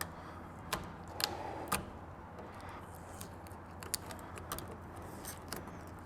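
A new chrome tailgate handle for a 2022 Toyota Tundra being unwrapped, giving sparse crinkly rustles and light clicks against a quiet background, with no voices.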